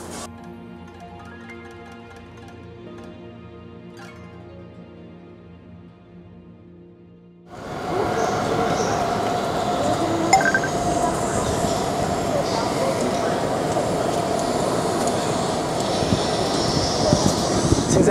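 A train rumbles steadily through a railway station in Japan, a loud, sustained roar of wheels and motors that takes over after a quieter stretch of music. It carries on for about ten seconds, with faint voices beneath it.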